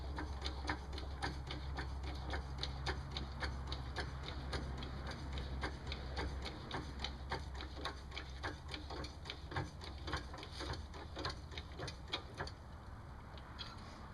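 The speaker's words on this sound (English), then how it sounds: "You can go ahead and jack the bike up into position." A motorcycle being jacked up into position on a Moto-Mule hitch carrier, with steady rhythmic ratcheting clicks from the jack handle repeating close by over a low continuous hum.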